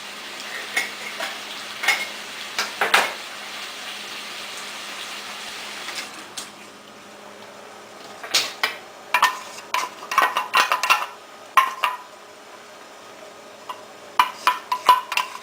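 Clams tipped into a pan of simmering sauce for linguine, their shells clinking and rattling against the metal in bursts over a steady sizzle, with a quieter simmering stretch before a cluster of sharp clinks.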